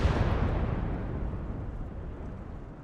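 Mortar fire bursting in the World War II game Gates of Hell: Ostfront, Finland campaign: a heavy, rumbling blast that hits loud at once and then slowly dies away into a long low tail.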